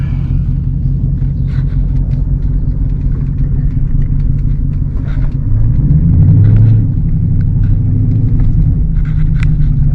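A Dodge Scat Pack car engine gives a steady low rumble that swells as the car accelerates, heard from inside the cabin, with no one talking.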